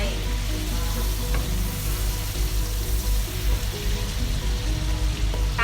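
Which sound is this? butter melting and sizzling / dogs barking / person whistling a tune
butter melting and sizzling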